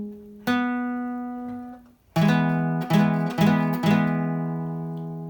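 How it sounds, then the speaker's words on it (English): A plucked guitar note rings alone, then a major triad chord is strummed four times in a steady rhythm, each strum bright, close and sustaining. "There's your major triad."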